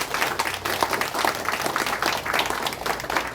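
Audience applause after a lecture on Korea–US relations, a steady dense patter of many hands clapping in a hall, sustained and even throughout with no voices over it.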